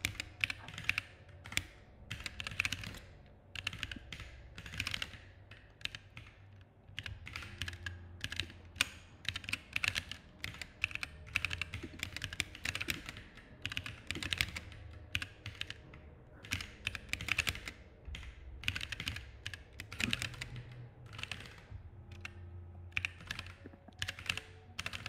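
Someone types on a computer keyboard while solving a 4D Rubik's Cube simulation. Dense runs of quick, crisp key clicks come in bursts with brief pauses, steady and close, with no talking.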